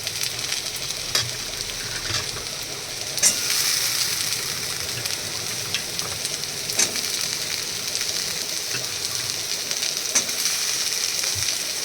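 Potatoes frying in a pan with bitter gourd and onions, a continuous close sizzle with occasional scrapes and clicks of stirring scattered through, no voices.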